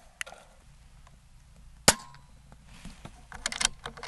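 An Air Venturi Avenger .22 caliber air rifle fires a sharp close crack near the middle, followed by a cluster of quicker snapping shots and clicks toward the end over a quiet background.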